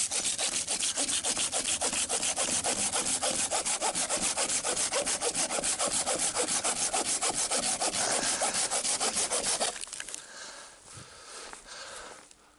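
Wood being sawn by hand outdoors, with fast, even, rhythmic rasping strokes close and loud for about ten seconds before stopping, followed by quieter rustling.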